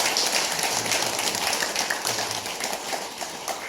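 Audience in a Buddhist temple hall clapping during a special lecture, a fairly faint, steady patter of many hands at a distance, fading slightly toward the end.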